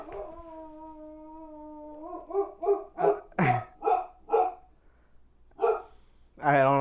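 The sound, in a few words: boxer dog barking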